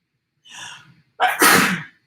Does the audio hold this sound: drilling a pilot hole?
no